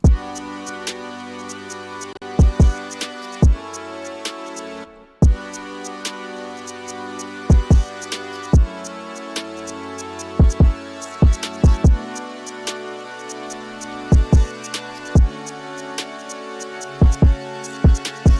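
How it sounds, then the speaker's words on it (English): Punchy drill-beat kick drum pushed through a soft clipper, thudding in a syncopated pattern of deep hits with a looping melodic bed behind it, briefly dropping out near the five-second mark. "I got this kick here"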